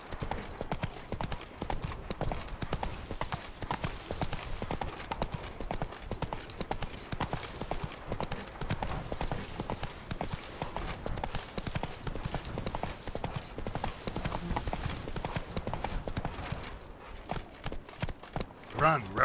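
Horse hooves clip-clop in a fast, continuous galloping rhythm through The Witcher 3 video game, steady and close throughout, with a rushing ambient background.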